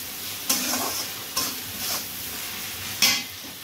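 Onion and tomato frying in a pan while being stirred, a steady sizzle broken by three sharp scraping strokes of the spoon against the pan, close by and with no talking.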